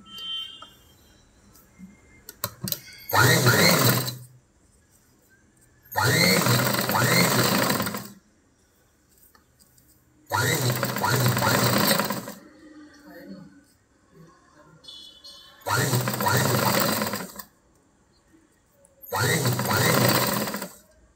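A sewing machine stitches a blouse decorated with thermocol potli balls, running in five short bursts of rapid whirring with quiet pauses between them while someone talks.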